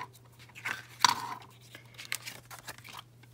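Tape torn and pressed onto the back of a handmade card: a sharp rip near the start, then soft crinkling, rubbing and tapping as it is smoothed down, close and quiet.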